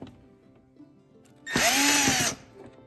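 A power drill spins out a Phillips head screw from the panel of an LG washer dryer, one loud whirring burst of under a second that rises and falls in pitch, close up after a quiet stretch.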